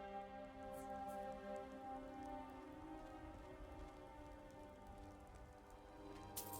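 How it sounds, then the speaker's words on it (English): Rain falls steadily in Skyrim, a soft, continuous patter and hiss with a quiet low droning tone running beneath it throughout. "Why is it always raining?"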